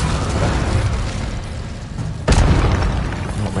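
An Incendio fire spell is cast in a Harry Potter video game on PS4, with a sudden loud whooshing burst partway through over a dense, rumbling game background.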